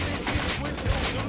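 Gunfire in an online shooter video game comes as dense, rapid bursts of shots with a constant noisy game backdrop, loud and close.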